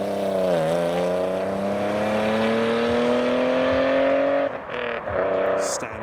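A BMW E36 rolls up to the line leaving a car show, its engine note rising smoothly through a steady rev before easing off near the end, loud and close.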